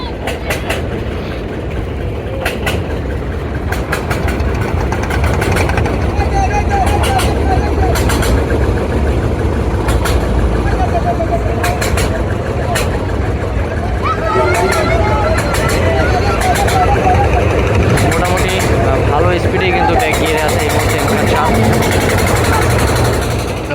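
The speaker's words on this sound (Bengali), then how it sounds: "দর্শক দুটি ট্রলার একই সাথে যাচ্ছে সেজন্য লঞ্চের স্পিড বাড়িয়েও আবার কিন্তু কমিয়ে দিয়েছে" Engines of two river trawlers and a Barishal-to-Dhaka passenger launch on the river drone loudly and steadily throughout, with a continuous low rumble and a babble of voices mixed in.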